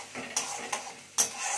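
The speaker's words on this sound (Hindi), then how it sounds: "ऑनियन को हल्का सा फ्राई कीजिए" Onions sauté in a pan for egg dal tadka, a soft sizzle under three distinct scraping strokes of a spoon against the pan, nearby and without talk.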